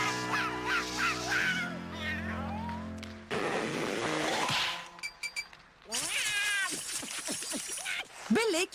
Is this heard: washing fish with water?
no